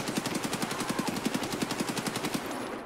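Automatic gunfire in the video game Escape from Tarkov rattles in a rapid, evenly spaced burst of about two and a half seconds, fairly close and uninterrupted, then stops abruptly.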